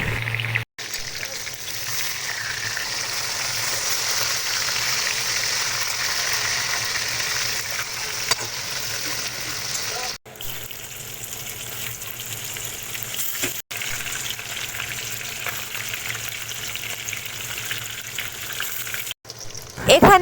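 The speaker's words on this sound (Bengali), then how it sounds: "তেলটা যখন খুব ভালো করে গরম হয়ে গেছে, এবার আমি এক এক করে সমস্ত কাঁটাগুলোকে ভেজে নেব।" Bhetki fish bones fry in hot mustard oil in a pan, giving a steady, close, loud sizzle that runs continuously with a few brief breaks, while a voice speaks faintly at times.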